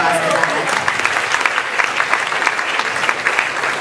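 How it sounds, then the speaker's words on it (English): An audience at a charity talent show claps steadily, a dense, loud round of applause that continues throughout with a voice faintly underneath. "so round of applause for that."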